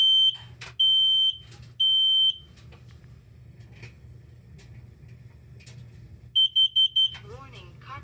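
Household smoke alarms chirp in loud, high-pitched beeps: three long tones at the start, then a quick burst of four near the end, with a quiet room and a voice in between.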